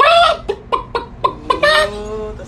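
A person imitates a hen's clucking, giving a few rhythmic staccato clucks and then a longer drawn-out cackle, close and fairly loud with no other talk.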